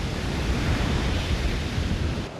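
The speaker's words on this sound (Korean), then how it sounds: "하지만 파도는 더 기승을 부리는데" Rough sea waves and wind battering a coast guard patrol ship at sea, a dense continuous roar of surf and rushing air, loud and unbroken.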